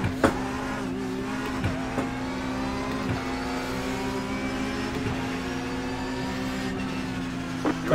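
Several race cars in the iRacing sim launch from a green-flag start, engines revving hard near 7,000 rpm with a brief wheel spin, layered engine harmonics climbing steadily and loud throughout.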